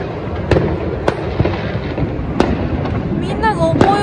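New Year's fireworks set off by individuals all across Bangkok, with sharp bangs and pops scattered irregularly over a constant crackling rumble. Some near, some distant, with a whistling rocket near the end and people talking over it.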